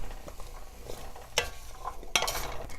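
Leeks sauteing in a pan with carrot and zucchini for a veggie lentil bake, giving a steady low sizzle with stirring scrapes and two sharper clatters.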